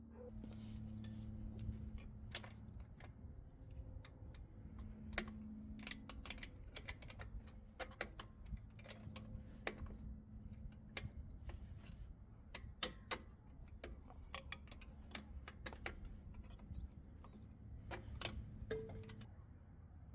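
A 10mm tool works flange nuts off a Toyota Hilux axle, giving a quick irregular run of small metallic ticks and clicks up close, with a low hum underneath and no speech.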